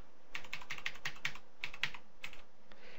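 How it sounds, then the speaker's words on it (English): Random numbers being typed on a computer keyboard, a quick run of crisp, close key clicks in short bursts with brief pauses, no talking. "I just kind of start typing random numbers here"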